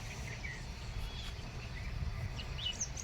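A few faint sparrow chirps come and go over a constant hiss of outdoor noise, with a small cluster of brighter calls near the end.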